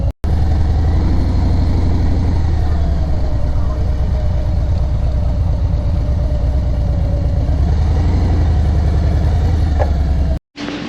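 A motorcycle engine idles while the rider pulls in to park beside another bike, giving a steady, loud, low rumble that runs almost unbroken, with a brief cut near the end.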